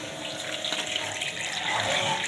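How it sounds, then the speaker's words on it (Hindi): Running water splashing steadily as poppy seeds are washed in a kitchen, a continuous close rush of water with no speech. "इस खुशकाश को पानी में वॉश करेंगे"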